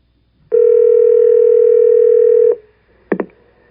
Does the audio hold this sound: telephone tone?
yes